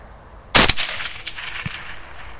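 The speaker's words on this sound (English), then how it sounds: "that's going to be a low connecting shot" A single rifle shot fired at a boar roughly 320 yards away: one sharp, loud crack followed by a rolling echo that fades, then a faint distant thump of impact.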